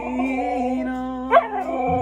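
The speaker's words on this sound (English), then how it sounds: "Just like laughter, a singing dog might be the best medicine." A husky holds a sustained, wavering howl at close range, singing along with music, its pitch sliding up briefly near the end before settling back.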